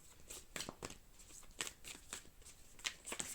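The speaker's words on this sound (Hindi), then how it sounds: "चलिए थोड़ा सा मून कार्ड निकालते हैं आपके लिए।" Tarot cards are shuffled and drawn in quick, crisp riffling bursts, close and fairly quiet, with no talking.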